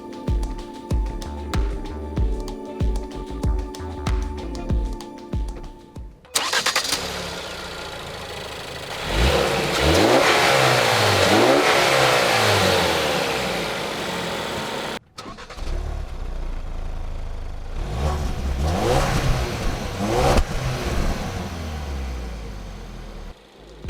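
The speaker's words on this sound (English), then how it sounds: "Enabling this Escape to move is a 2-liter twin-scroll turbocharged EcoBoost 4-cylinder engine that makes 245 horsepower, 275 pound-feet of torque." Engine of a 2017 Ford Escape Titanium 4WD with a 2-liter twin-scroll turbocharged EcoBoost four-cylinder, loud and close, starting up then revving and accelerating in rising sweeps, with a brief break midway before more surging pulls.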